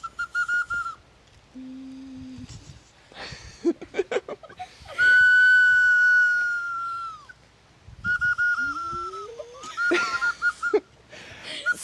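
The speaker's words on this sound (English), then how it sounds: "You hum into the kazoo." Several short hummed buzzes through a kazoo at an outdoor children's demonstration of Appalachian noisemakers, with tones rising and sliding between pauses, close and fairly loud.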